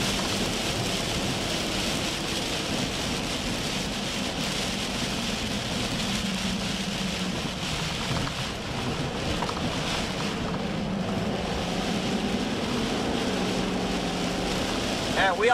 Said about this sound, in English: There's so much rain out in this area.